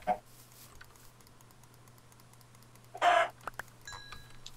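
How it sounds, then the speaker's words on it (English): A chicken in the Minecraft Hunger Games video game gives a brief cluck in the middle, set against quiet keyboard typing and a low steady hum. "There, just killed a chicken."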